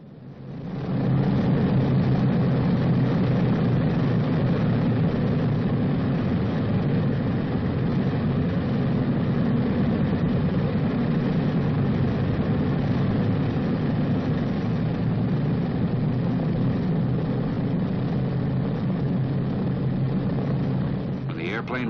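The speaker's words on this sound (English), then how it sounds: "When the airplane reaches the runway, the engines must be checked." Four piston engines of a World War II B-29 bomber idle before taxiing, a steady low droning rumble that holds at an even level throughout, with narration spoken over it.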